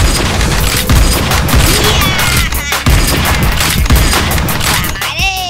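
Loud, dense bursts of gunfire, with rapid volleys and heavy booms, fill a toy-gun duel staged as a real-life Free Fire battle. The shots go on without a break, and sharp whistling effects sweep through near the end.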